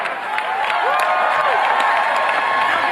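Political rally crowd roaring with applause and cheering, a steady loud mass of clapping and shouting with a few whoops rising above it throughout.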